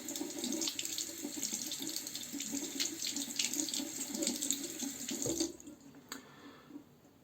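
Tap water runs steadily into a sink while a Merkur razor is rinsed, a close splashing rush that fluctuates as the razor moves under the stream, then cuts off near the end with a brief clink.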